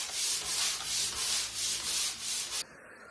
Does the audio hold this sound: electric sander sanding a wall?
yes